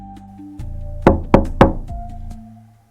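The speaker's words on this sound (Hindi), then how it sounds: "फिर दरवाजे पर धीरे धीरे किसी ने खटखटाया।" Three slow, heavy knocks on a door as a spooky sound effect, each one sharp and close, over a low hum that fades away afterward.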